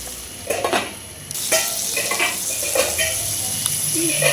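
Gongura chicken masala with tomatoes, green chillies and ginger sizzles in a pan over medium flame, with a steady frying hiss and repeated scraping clinks of a spoon stirring against the metal, close by.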